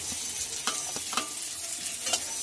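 Onions sizzle steadily in hot oil while a utensil stirs and scrapes the pan with a few distinct knocks.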